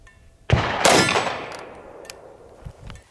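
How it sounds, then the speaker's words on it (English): A 357 SIG bullet strikes the steel of a Kevlar helmet with a single loud, sharp clang that rings out and slowly decays, followed by a faint thud near the end. "We heard the steel ring."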